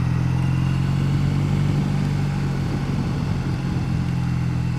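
A 2014 Triumph Bonneville motorcycle climbing a gentle uphill, its steady mid-pitched engine drone loud and continuous with a slight shift in tone partway through as the load changes.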